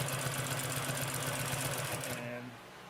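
A Consew P2339RB double-needle walking foot upholstery sewing machine runs steadily, its needle mechanism whirring rapidly and loudly before slowing and stopping near the end.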